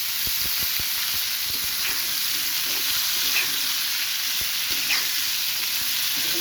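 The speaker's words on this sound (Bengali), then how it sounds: "ভেজে নেবো খুব সুন্দর করে" Onions and cut vegetables, potato and pointed gourd, fry in oil in a pan with a loud, continuous close-up sizzle and hiss, broken early on by quick clinks of a stirring spoon.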